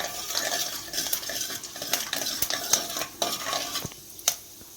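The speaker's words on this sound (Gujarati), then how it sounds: "હવે આપણે તેમાં જીરું નાખીશું, થોડી હિંગ નાખીશું અને થોડા મેથીના દાણા નાખીશું અને તેને આપણે હલાવી લઈશું।" Cumin, asafoetida and fenugreek seeds stirred in hot ghee for Gujarati dapka kadhi, a light crackling sizzle punctuated by frequent sharp clinks and scrapes of a spoon against the metal pan, close and busy, then thinning out near the end.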